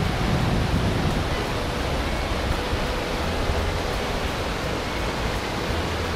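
Bow River Falls in Banff National Park roars as a dense, continuous rush of falling water, loud and close, with no voices.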